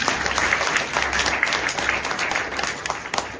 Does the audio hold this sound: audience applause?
yes